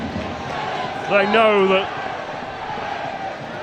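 Steady roar of a rugby league stadium crowd at a Challenge Cup third-round match between Widnes Vikings and Leeds Rhinos, a constant wash of distant noise beneath a voice talking over it.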